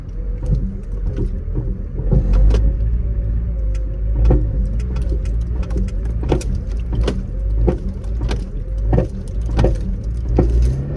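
Worn lower gearbox mount on a Vauxhall Corsa D knocking while driving: repeated sharp clunks at uneven intervals over a steady low engine and road rumble, close and fairly loud.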